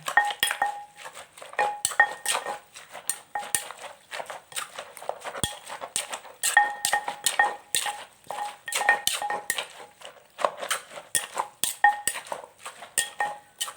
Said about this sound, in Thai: เราก็จะมาตำให้มันเข้ากันเลยนะคะ